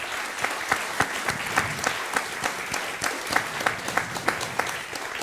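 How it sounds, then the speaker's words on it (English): An audience in a town hall at an evening music night claps steadily for several seconds, a dense run of individual hand claps with no voices over it. "I'd like you to give them a special round of applause"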